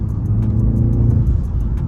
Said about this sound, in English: Now if I put it back into sport, same throttle inputs, that's how the car responds.